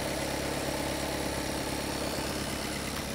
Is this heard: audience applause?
no